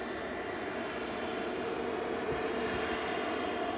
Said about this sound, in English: Singapore 52 is taxiing out now.